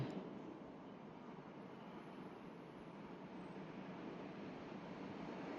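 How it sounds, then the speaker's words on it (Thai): Steady, broad rushing wind blowing continuously, fairly loud and unbroken throughout, with no voices. "โอ้ลมเย็นสบาย"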